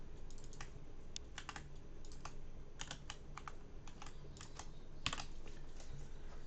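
Code is typed on a computer keyboard in quick, uneven bursts of soft clicks, fairly quiet and close with no talking.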